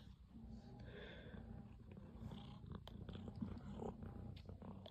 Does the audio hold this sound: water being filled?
no